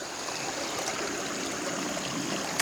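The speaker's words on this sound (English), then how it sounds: "right here on the side of the creek" Citico Creek flowing steadily past a nearby bank, a continuous broadband rush and trickle of water that holds even throughout with no voices.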